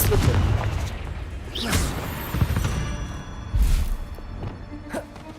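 Explosive spells go off in Hogwarts Legacy combat, a string of booming thumps and whooshing blasts spaced a second or two apart, with spoken incantations over the spell effects.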